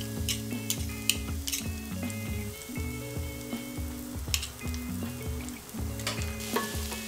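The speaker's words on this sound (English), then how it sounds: "add 2 cloves of crushed garlic and fry for a few minutes" Crushed garlic cloves frying in melted fat in a pan for a beef curry, giving a steady close sizzle with clinks and scrapes of a utensil stirring through it, and no voices.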